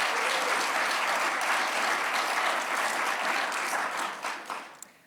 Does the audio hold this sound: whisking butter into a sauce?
no